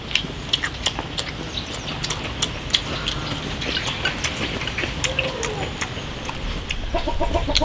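A gamecock and hen on a farm clucking repeatedly; nearby short clucks and cackles scattered throughout, over a soft steady background.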